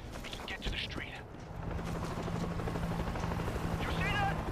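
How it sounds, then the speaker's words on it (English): A helicopter in the video game World War Z Aftermath makes a steady mechanical thrum that builds slightly, mixed with game effects and faint voices. "You see that? Another chopper. Looks like an evac."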